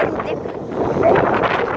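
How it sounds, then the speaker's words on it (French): Strong wind buffets the microphone outdoors on a rocky descent, a steady broadband roar that swells louder toward the end, with faint talk mixed in. "Le vent me pousse, alors c'est pas très simple."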